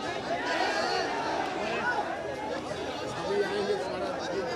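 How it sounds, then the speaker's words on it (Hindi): A protest crowd gathering, with a dense murmur of many voices chattering and calling at once, steady and fairly loud with no single voice standing out. "ठीक ठाक भीड़ है यार।"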